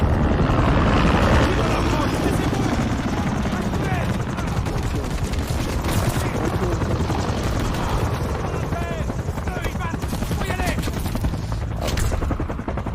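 Helicopter rotor noise and bursts of gunfire from a Call of Duty MW3 campaign mission, a dense, loud, continuous wash of combat sound with rapid firing and voices talking over it.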